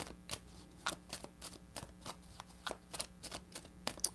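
Tarot cards being shuffled by hand, a rapid series of crisp riffling snaps and flutters, close and fairly quiet, with no voices.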